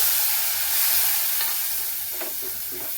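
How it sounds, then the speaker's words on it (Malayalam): Tomatoes frying in a pan with turmeric and chili powder, a steady soft sizzle close by with faint stirring scrapes, no voices. "തക്കാളി ഇടുകയാണ്."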